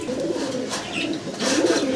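Fancy domestic pigeons in a collection coo in low murmuring bursts, a steady cooing bed with a couple of louder swells, heard alone at close range.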